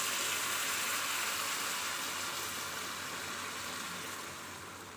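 Water pours into a hot pot for a fish broth with beancurd and pak choi, making a continuous hissing, splashing rush that stays steady and close and then eases slightly over five seconds.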